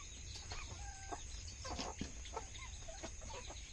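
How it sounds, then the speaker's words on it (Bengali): Desi domestic chickens make soft, scattered clucks and short calls on a farm at night, quiet and close against a low background hum. "এই যে কিছু মুরগি"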